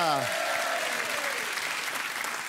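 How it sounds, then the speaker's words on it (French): A French television talk show's studio audience claps in a thick, steady burst of applause, with a brief voice at the very start before the clapping fills the room. "On vous applaudit, merci d'être là et on salue Charlotte et Anas."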